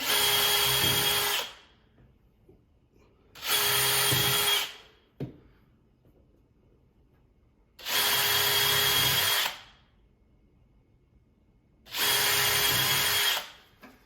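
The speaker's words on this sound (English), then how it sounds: "Then we're going to grab the drill out." A power drill whines in four separate bursts of about two seconds each, with short quiet pauses between, close and loud as it bores through a window frame.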